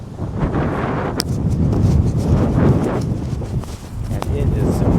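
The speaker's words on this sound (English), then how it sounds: "And it is super windy." Strong, steady wind gusts roar across the microphone at a lakeside luxury home on Lake Murray, loud and continuous for several seconds.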